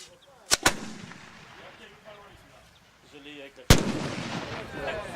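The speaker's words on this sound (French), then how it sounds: "Le canon a tonné pour annoncer la future exposition itinérante sur la guerre 14-18" Full-scale replica French 75 mm field cannon, a model of 1895, fires at an outdoor World War I exhibition launch: two sharp loud booms close together, then a third heavy blast later, with crowd chatter murmuring between shots.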